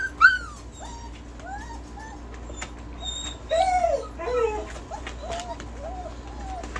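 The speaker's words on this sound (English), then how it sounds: "these are Minnie and Mickey, F3 miniature Bordoodle puppies" Two 5-week-old F3 miniature Bordoodle puppies whimpering and yipping nearby in a series of high, rising and falling cries over a low steady background hum.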